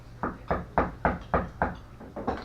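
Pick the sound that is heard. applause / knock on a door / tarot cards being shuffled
knock on a door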